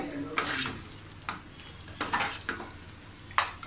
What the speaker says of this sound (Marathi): आता हे वाटण आपण याच्यामध्ये व्यवस्थित टाकूया आणि छान असं व्यवस्थित मिक्स करून घ्यावं याच्यामध्ये.